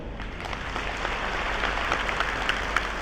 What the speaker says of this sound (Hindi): एक बार ऐसी अच्छी ताली बजाकर दिखाओ